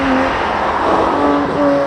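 Porsche 718 Spyder roadster on the move, a steady loud engine and road roar from inside the car, with a faint tonal whine rising and falling over about two seconds.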